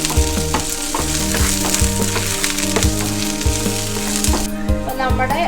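Three dried red chillies frying in hot oil, a dense, close crackling sizzle with steady popping and the occasional clink of stirring, heard alone without speech.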